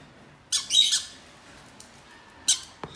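Pet bird squawking in the morning at home, two loud bursts of harsh squawks close by, the first longer and doubled, then a short faint knock, with quiet room tone between.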